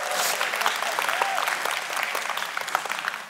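A church congregation breaks into steady, dense applause that fills the room from start to finish, with many hands clapping at once and a few murmuring voices mixed in.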